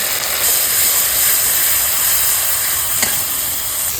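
Kashmiri chilli powder, slit green chillies and a little sugar sizzle loudly in hot oil in a pan for an eggplant-style kofta curry, a constant close hiss with a brief clink of stirring.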